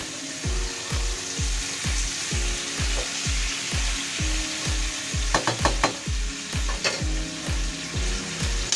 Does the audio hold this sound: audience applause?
no